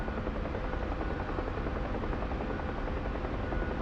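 Huey helicopter in a video game, its rotor thumping in a steady, dense loud drone that stays constant from start to finish with no talk.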